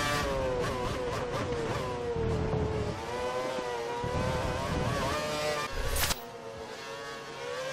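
Mercedes race car accelerating down the Kemmel straight at Spa with DRS open, engine note rising in a steady loud drone of climbing harmonics, with a brief sharp burst near the end.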